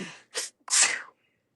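A single loud, close sneeze with a sharp intake of breath before it, then quiet, with no talking over it.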